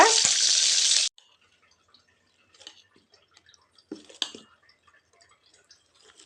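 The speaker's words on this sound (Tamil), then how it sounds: "இப்போ கருவேப்பிலை பொரிஞ்சதும் சட்னியில் எடுத்து கொட்டிக்கலாங்க." Curry leaves splutter and sizzle loudly in hot oil for coconut chutney, a dense hiss for about a second before it stops abruptly, followed by faint scattered drips and clinks.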